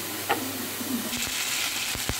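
Potatoes fry in a pan with ginger and green chili paste and asafoetida, giving a steady sizzling hiss broken by a few scraping stirs.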